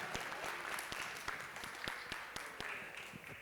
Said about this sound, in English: Y'all clap it up, please.